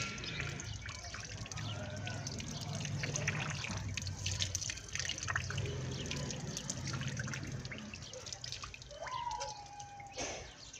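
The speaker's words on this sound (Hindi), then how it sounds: "अच्छी तरह इस दाढ़ी को इस तरह पानी के साथ तर कर लें" During wudu, water trickles and splashes as a man wets his face and beard with his hands, a quiet, continuous dripping and running flow close by, with a few sharper drips near the end.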